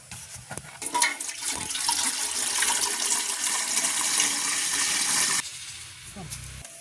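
Water pours in a steady rushing stream for several seconds, close by, into a pot for boiling to cook idiyappam, then cuts off abruptly; brief clatter before and after.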